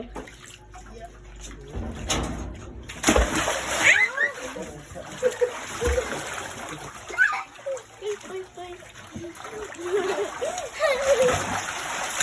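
A dog splashing in a swimming pool makes irregular sloshes and water splatter throughout, while people, including a child, talk and call out nearby.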